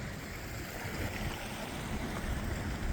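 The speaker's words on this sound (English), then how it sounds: "we have this little brook here that has given us our water supply" Little Sierra mountain brook on the Bear Lakes Loop trail near camp, flowing as a steady, close broadband rush of water with no voices.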